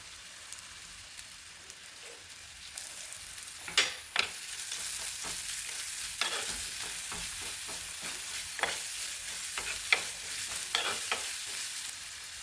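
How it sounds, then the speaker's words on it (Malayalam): Chopped onions hiss and sizzle steadily in hot oil, with a spoon scraping and knocking against the pan every so often. "ഈ ഉള്ളി അരിഞ്ഞത് ആദ്യം എണ്ണയിലേക്ക് ഇട്ട് കൊടുക്കാം"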